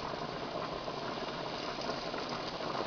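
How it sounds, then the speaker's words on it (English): Trout fillets frying in about a quarter inch of oil give a steady, dense crackling sizzle that holds at an even level throughout, close and fairly loud with no voices. "we're going to put these in about maybe 1/4 of an inch of good quality oil"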